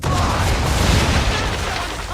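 Broadside of ship cannons firing in the Assassin's Creed 3 naval sailing game, heard as a loud, sustained booming roar that fills the whole moment and slowly fades, with no separate shots.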